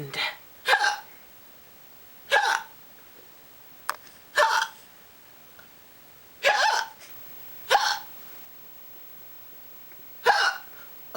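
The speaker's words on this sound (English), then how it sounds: "Oh no, I have the hiccups." Hiccups come one after another at irregular intervals, sharp and fairly close, about seven in a row with quiet between them.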